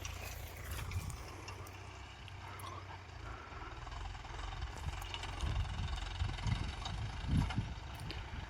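A Mahindra Yuvo 575 tractor plows a field, its engine a faint, steady low rumble that swells slightly in the second half.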